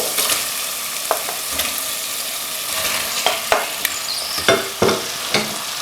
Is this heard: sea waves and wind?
no